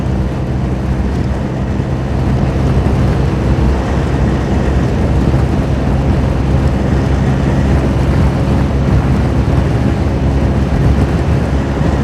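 A Forza 350 scooter accelerating at full throttle on a straight road, a loud steady engine drone mixed with heavy wind rush, continuous and close for the whole stretch.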